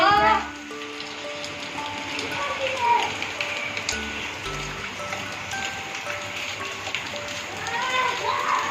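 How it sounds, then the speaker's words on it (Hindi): Heavy rain pours steadily in Islamabad as a dense, hissing wash that fills the whole scene, with a few voices talking close by over it. "बहुत तेज है बारिश, वो देखो।"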